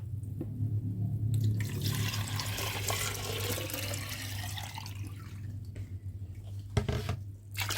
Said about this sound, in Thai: 4 ลิตรเทลงไปเลย